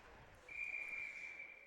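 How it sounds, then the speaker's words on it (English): A referee's whistle at a 16U ice hockey game, one sustained shrill blast of about a second, fairly faint over quiet rink ambience. "And now we get a whistle."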